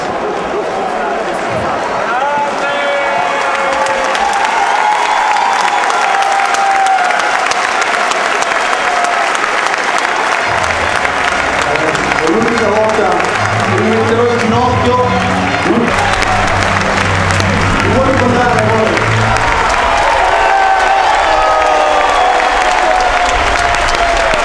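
Studio audience on an Italian TV show applauding a marriage proposal, with the host on his feet clapping: sustained, loud, dense applause throughout, with cheering voices and chatter mixing in around the middle.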